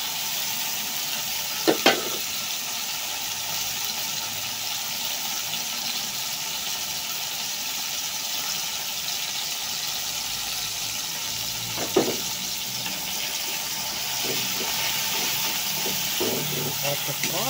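Tomatoes frying in a pan give a steady, close hiss of sizzling throughout, with a few clinks and scrapes of stirring breaking through now and then.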